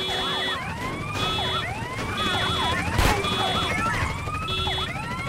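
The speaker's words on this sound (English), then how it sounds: "When you're being chased in a car by the police and you press the horn button, the police sirens speed up." Police car sirens wailing and warbling in a car chase in the GTA Definitive Trilogy video game, several overlapping rising and falling siren tones cycling rapidly and loudly without a break.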